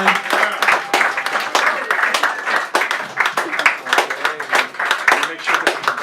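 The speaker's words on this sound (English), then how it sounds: "So give her a beautiful round of applause as she comes up here." Audience applause for a poet at Sacred Grounds Cafe in San Francisco, close, lively clapping from a small crowd, rising and falling in uneven bursts for several seconds.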